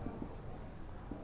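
Chalk or marker writing on a board during a class 9 lecture on atoms and molecules, a soft continuous scratching with a few faint taps over steady room noise.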